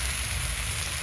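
Tomatoes being added to a pan of hot oil while cooking vegetable khichuri in a village kitchen, giving a steady, quiet hiss and crackle of frying with no speech over it.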